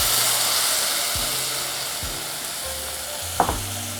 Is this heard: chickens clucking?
no